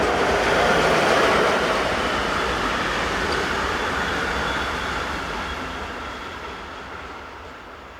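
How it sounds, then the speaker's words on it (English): A short freight train of refrigerated containers rolls west along the Olten to Oensingen main line in Switzerland, a steady broad rumble and rush of wheels that slowly fades as it passes. "Another typically short train of refrigerated containers heads west."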